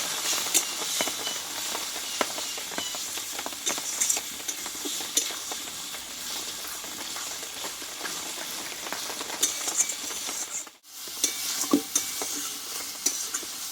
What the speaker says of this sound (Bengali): এখানে দেবো একটু হলুদ গুঁড়ো অল্প করে দিয়ে মশলাটা সব ভালোভাবে কষিয়ে নেবো